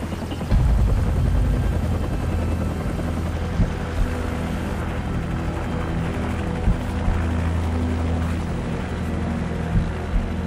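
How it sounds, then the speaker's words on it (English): Helicopter in the video game Call of Duty 4: Modern Warfare, a steady loud rotor drone with low thumping and engine roar running throughout, with occasional brief sharp bangs over it. "Take out that helicopter."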